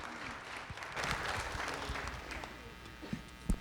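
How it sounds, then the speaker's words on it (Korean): Applause from an audience at an academic award ceremony, a moderate, fairly distant round of clapping that swells and then thins into scattered claps, with a voice faintly heard underneath. "박수로서 다시 한번 축하해드리길 바랍니다."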